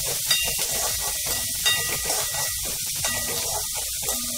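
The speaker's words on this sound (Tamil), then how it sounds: "வெங்காயம் நல்லா வதங்கட்டும்" Onions sautéing in a pan with spices while cooking palakkai kola urundai, a steady loud sizzle and hiss with crackling bursts, continuous throughout.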